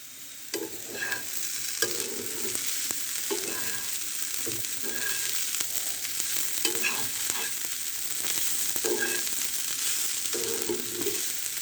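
Broad beans stir-fry with shrimp, whole spices, shahi cumin and a little black pepper in a pan, a continuous close sizzle broken by repeated scraping strokes of a spatula, with no voices.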